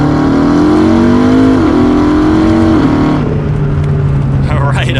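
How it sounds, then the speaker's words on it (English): Tuned McLaren MP4-12C supercar accelerating hard in second gear, engine note rising steadily then dropping at a shift and continuing under load, loud and close from inside the car. "Then we'll do a second gear acceleration."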